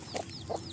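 Hens and chicks on an organic farm give two short clucks about a third of a second apart, close by and fairly quiet, with soft chick peeps behind them.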